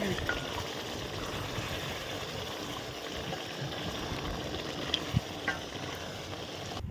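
Chicken curry with tender tamarind leaves simmers in a pot with a steady, even bubbling sizzle. It is close up and constant, with a few faint clinks near the end.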